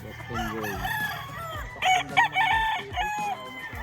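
Roosters of a Boston Gold gamefowl line crowing repeatedly at a farm, several overlapping calls near and far along with clucking, over a steady low background hum.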